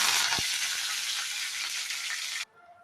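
Curry leaves hit hot sunflower oil with popped mustard seeds and set off a loud, bright sizzle that holds for a couple of seconds before cutting off abruptly into near silence.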